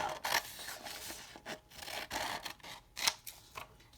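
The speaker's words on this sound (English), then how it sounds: "then I'm going to cut that square out" Scissors snip through paper while cutting out a square, a run of short rasping cuts and rustles with brief pauses, close and fairly quiet, with no voices.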